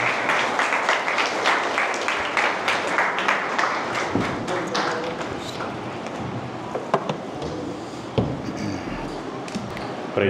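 Audience clapping at a church youth meeting, sustained dense applause throughout with a few sharper claps standing out near the end.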